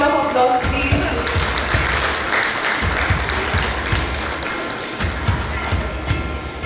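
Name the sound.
audience applause at school gathering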